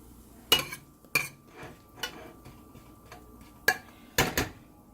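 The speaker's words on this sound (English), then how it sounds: "So now our desi ghee is hot, so I'm adding about teaspoon of cumin seeds, and we're gonna wait until it's cracked." A teaspoon of cumin seeds in hot desi ghee, heard as sharp isolated clicks and ticks popping irregularly, about six distinct cracks over quiet low background, close and fairly crisp.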